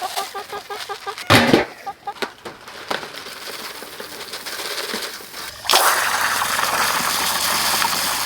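Four roosters in a bachelor coop cluck and squawk close by, with a sharp burst early on, scattered clucks, then a steady rushing noise that fills the last few seconds.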